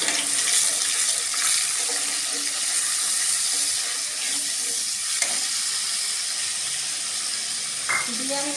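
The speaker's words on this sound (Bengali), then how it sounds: "প্রথমে আমি কড়াইতে যে তেল গরম করতে দেওয়া আছে আমার, এইবারে আমি এই টমেটোর পেস্টটা আমি ঢেলে দিলাম।" Tomato paste hits hot oil in a kadai with a steady, close sizzle and bubbling fry that holds throughout, broken by a few light clinks and scraping stirs near the end.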